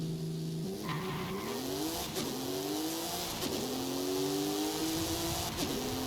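Porsche 911 Turbo S engine in Forza Horizon 5 rising and falling through repeated revs and gear shifts, with tire squeal and skidding layered over a loud, continuous, close racing drone.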